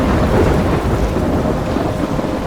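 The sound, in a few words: thunderstorm in the video game Life is Strange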